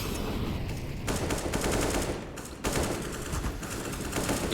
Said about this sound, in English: AK's popping away on the A ramp so far.